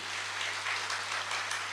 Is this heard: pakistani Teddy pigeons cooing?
no